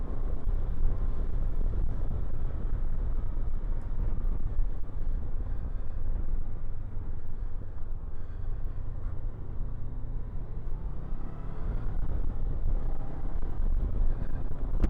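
A 2024 Honda NX500 A2-compliant motorcycle is ridden along an island road, heard as a steady low engine and road rumble mixed with constant wind buffeting on the microphone, unbroken for the whole stretch.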